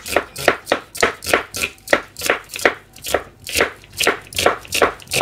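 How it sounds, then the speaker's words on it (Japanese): A kitchen knife chops food on a cutting board in a steady rhythm of about twenty crisp, close strokes, evenly spaced and alone without talk. "包丁の音を聞くとやってくる眉"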